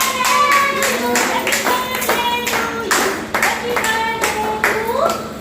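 People clap in a steady, rhythmic beat at a family birthday celebration, with tonal sounds like singing or voices running over the claps throughout.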